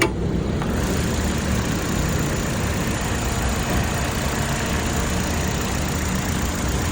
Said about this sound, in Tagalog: Check natin yung engine.